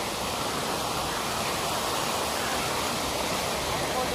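Cold mountain river flowing on a pilgrimage route, a dense, steady rush of water heard up close, loud and unbroken throughout with no voices.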